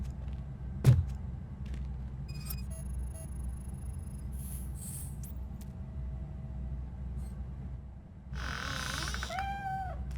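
A cat meows in the RoboCop Rogue City video game: a couple of short rising, tonal cries near the end, over a steady low ambient rumble with a brief thump early on.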